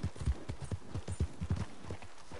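Horse hooves clip-clop in the Red Dead Online video game, a quick irregular run of close thuds over about two seconds with faint background sound.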